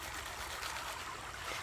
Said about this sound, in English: you can pour off most of the water like this, and swirl it around